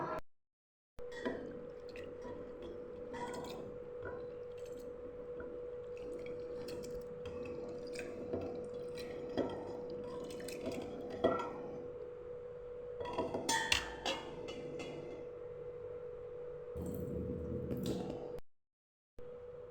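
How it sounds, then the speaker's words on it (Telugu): Flattened rice (poha) is rinsed in water in a bowl before grinding for dosa batter, with steady wet squishing, sloshing and dripping throughout. A few sharper splashes and clinks stand out, and no one speaks. "అటుకులు మిక్సీ వేసే ముందు వాటర్ పోసుకొని 1 or 2 టైమ్స్ కడుక్కోవాలండి."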